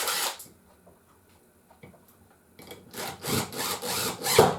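Dewalt impact driver sinking a 4-inch screw into a lump of wood: after a quiet stretch the tool starts and hammers in loud rapid bursts that grow more insistent toward the end, with no talk over it.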